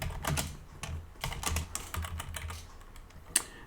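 Fast, irregular keystrokes on a computer keyboard during coding work, close and clear, with short pauses between bursts and one sharp louder tap near the end.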